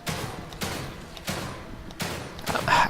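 Explosive crossbow bolts are fired in the horror game The Evil Within 2, four sharp thuds with bursts landing at even intervals about two-thirds of a second apart, punchy and loud with no voices over them.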